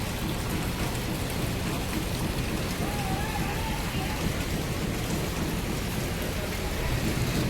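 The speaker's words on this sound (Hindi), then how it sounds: "अभी तो फिर भी बारिश थोड़ी सी कम हो गई है" Rain falls steadily and heavily, a dense continuous hiss of drops hitting surfaces, with no pauses and no voices.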